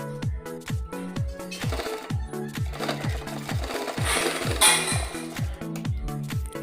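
A sewing machine stitching a katori blouse, running in a fast regular mechanical rhythm of repeated needle strokes with occasional light clatter, close and steady.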